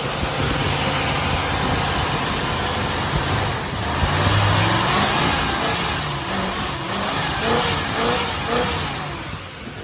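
A 1979 second-generation Chevrolet Camaro fitted with a Holley 4-barrel carburetor and new spark plugs runs steadily, its engine rising into a brief rev midway and then settling back, with no talking.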